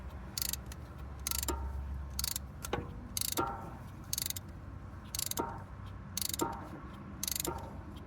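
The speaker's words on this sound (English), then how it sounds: "then ratchet, and you're pushing the calipers, or the pistons, I should say, back into the caliper" Regular ratcheting clicks come from a hand ratchet on a piston tool, pushing the brake caliper pistons back on an Alfa Romeo Stelvio or Giulia during a front pad and rotor job. The bursts repeat steadily about every second, close and crisp.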